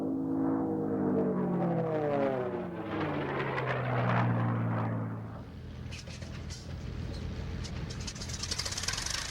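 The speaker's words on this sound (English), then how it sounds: "there's no sound quite like these unlimited racing engines going full out." Unlimited racing planes scream past at full power at the Reno air races, their engine pitch sweeping downward in a strong Doppler drop as they pass close, then fading into a distant roar.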